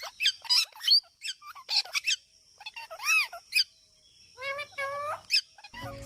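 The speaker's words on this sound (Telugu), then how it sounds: "మా సొప్పగడ్డిలో ఒక రామచిలక వచ్చి మేత మేస్తుంది" A parakeet feeding in sorghum grass gives a series of close, high squeaky chirps and short squawks in quick, uneven bursts against a quiet background.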